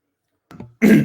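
A single throat-clearing rasp followed by one loud, close cough, with silence before it.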